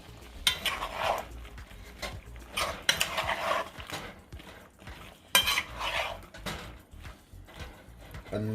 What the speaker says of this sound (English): And now I'm going to add 2 Maggi beef cube inside of the pot. Just like that, and then I'm going to stir it in.